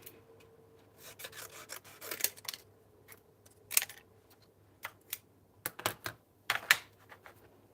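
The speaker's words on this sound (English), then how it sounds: "Scissors." Scissors snip through Kraft paper in short, crisp bursts, scattered irregularly with quiet pauses between cuts, close and fairly faint during crafting.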